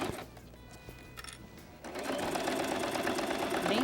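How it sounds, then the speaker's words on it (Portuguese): A sewing machine stitches a transparent pouch, starting with light, uneven clicks and then settling into a loud, fast, continuous mechanical whir of needle strokes. "Vou costurando essa parte"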